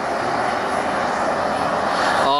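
A jet turbine powered R/C truck runs steadily at a constant loud roar, a dense continuous whine and rush that holds through the whole moment with no throttle change until a slight shift at the very end.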